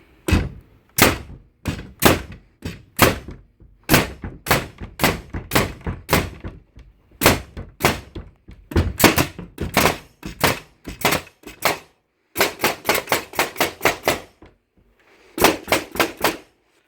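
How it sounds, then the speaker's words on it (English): An S&K FN0034 pneumatic roofing nail gun, repaired after leaking air and not firing, fires dozens of loud, sharp close-up thunks, in uneven bursts with short pauses and a quicker rapid-fire run near the end. "One S&K FN0034 roofing gun, up and running again."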